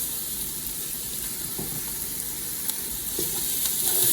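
Butter sizzling in a hot pan with sautéed ingredients for a bechamel lasagna, a steady close hiss and crackle with a few stirring knocks, growing slightly louder at the end.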